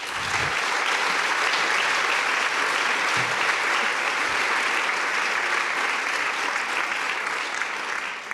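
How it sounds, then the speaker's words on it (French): Sustained audience applause at a conference round table, a dense, even roar of many hands clapping that carries on steadily for several seconds with a few louder thumps mixed in. "je voudrais quand même qu'on applaudisse"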